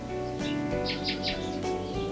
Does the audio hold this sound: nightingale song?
yes